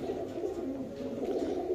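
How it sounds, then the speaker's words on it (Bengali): Pigeon at a Bangladeshi pigeon farm cooing in a continuous low throaty murmur, close and fairly loud, with soft rising and falling pulses. "আমরা এই কবুতরের ডাকটা ইনশাল্লাহ দেখা দিচ্ছি আপনাদের।"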